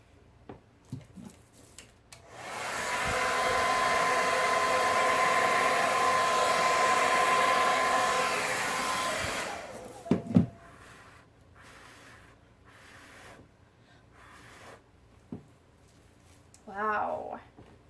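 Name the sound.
hair dryer used on blue Dutch pour acrylic painting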